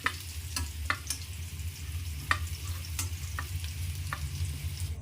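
Jackfruit pieces being lifted out of hot frying oil in a kitchen pan, with a steady close sizzle and bubbling broken by a few sharp clinks of a utensil against the pan.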